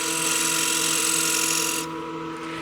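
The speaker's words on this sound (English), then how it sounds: "I'll use my skew, just the tip of it. Just cut a small little groove" A woodturning lathe spins steadily while the tip of a skew chisel cuts a small groove in a wooden utility box, a loud continuous whirring hiss that drops to a quieter hum near the end.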